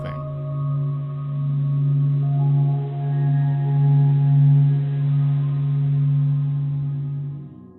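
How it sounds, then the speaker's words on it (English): A sonified sound of the Sun made from solar observatory data, a steady low droning hum with faint overtones, slowly swelling and easing in loudness before fading out at the end. "The sounds you heard in this piece were sonified by the Stanford Experimental Physics Lab."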